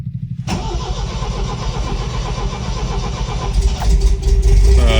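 An MGB GT classic car, unrun for 15 years, cranks and catches after a brief silence, then settles into a loud, steady, close idle that swells slightly toward the end.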